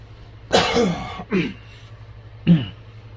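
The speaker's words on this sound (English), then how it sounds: "Sorry for the coughing." Three harsh coughs, the first a drawn-out fit, then two shorter single coughs after pauses, close to the microphone.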